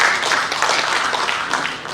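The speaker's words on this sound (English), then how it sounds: "round of applause" Audience applause breaks out at a live business launch event in Malaysia, a steady wash of clapping hands filling the room for about two seconds at moderate loudness.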